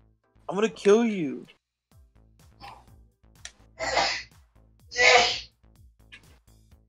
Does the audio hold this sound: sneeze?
yes